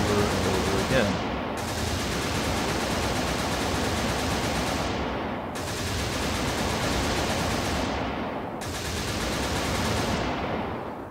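Aircraft guns fire in air-to-air combat in the video game Xenonauts, producing long, continuous rattling bursts that run for several seconds each. The bursts cut off briefly between them and stay loud and dense throughout.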